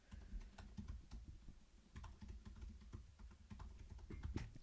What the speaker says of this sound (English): As Tyler's typing that out